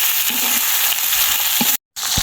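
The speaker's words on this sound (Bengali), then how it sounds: "কাঁচকলা একটু ভেজে নেব" Raw green banana pieces frying in oil tempered with black cumin, a loud close steady sizzle with a few stirring knocks, cut by a brief silent gap near the end.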